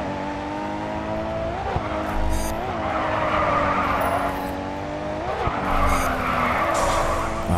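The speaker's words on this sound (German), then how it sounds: "Und ich kann trotzdem driften." Sustained tire squeal from a car drifting in Grid 2, loud and continuous over a droning engine, with pitch wavering as the slide changes.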